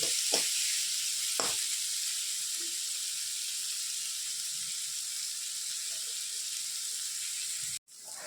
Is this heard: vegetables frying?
yes